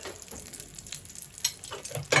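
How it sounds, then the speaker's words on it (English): Soft frying sizzle of pine nuts crackles steadily in a pan, with a few brighter pops and a louder spurt near the end, fairly close and without talk. "we got a little sizzle as well"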